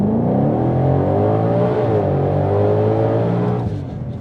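A 2020-or-later Ford Mustang GT500 leaves under launch control, its engine roaring loud and close as the revs climb steadily through a gear, then dropping away briefly near the end, with no voices.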